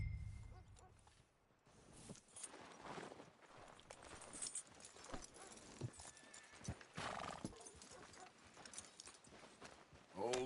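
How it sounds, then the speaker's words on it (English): A horse from the video game Red Dead Redemption 2 walks with steady clip-clopping hooves and whinnies, with no talk over it. "Are you gonna mount that new horse of yours or not?"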